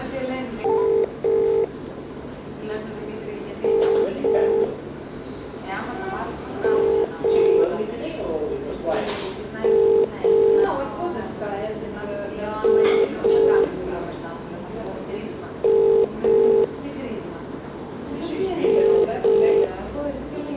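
Outgoing phone call ringing back, a repeating double-pulse ring tone with steady pauses and a faint higher tone partway through, heard close from a phone speaker.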